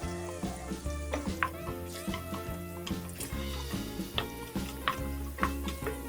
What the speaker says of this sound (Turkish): İçine soğanımızı ekleyelim. Yine aynı şekilde soğanın da renkleri değişene kadar pişirelim.